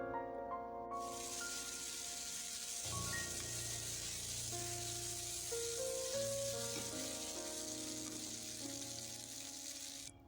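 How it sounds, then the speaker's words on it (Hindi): Chicken sizzles steadily in an oiled frying pan, a dense continuous frying hiss with a bright hum running beneath it, close and loud throughout. "उसके बाद सारा चिकन हम फ्राइंग पैन में डालते हैं।"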